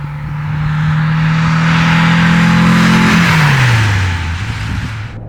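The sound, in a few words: 1962 Porsche 356 B 2000 GS Carrera 2 Fuhrmann engine revving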